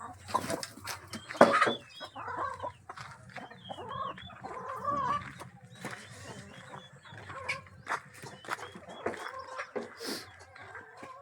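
A shed full of roosters, hens and young chicks in Krishnapuram village, with steady clucking and chattering from many birds at once and an occasional crow, close and lively with no talk.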